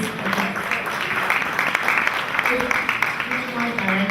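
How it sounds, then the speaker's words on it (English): Audience applause for a bank regional manager at a 2013 competition finals event, a steady wash of clapping lasting throughout, moderately loud with some voices mixed underneath. "Please let's clap for him"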